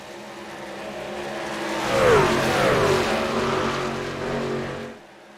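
Racing trucks in a truck-series racing video game pull away from pit exit, engines revving and whining upward in pitch as they build speed, swelling louder past the middle before easing off and cutting out.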